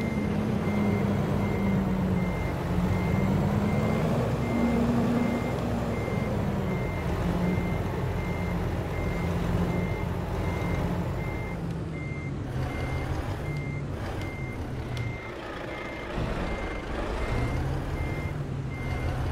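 A reversing truck in American Truck Simulator beeps in a steady, evenly spaced pattern throughout, over a continuous low diesel engine drone that rises and falls slightly with throttle, with no talking.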